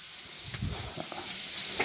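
Curry leaves hit hot oil in a pan, giving a steady close sizzle and crackle with a few soft bursts of spatter and stirring, no voices.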